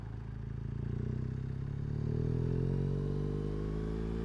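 BMW R1200 GSA motorcycle riding on dry spring roads in England, a steady engine drone with rising pitch as it accelerates, close and continuous under wind noise.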